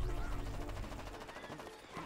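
A superhero zombie character fires a gun in Plants vs. Zombies: Garden Warfare 2, a dense stream of rapid, repeated shots blending into busy game sound.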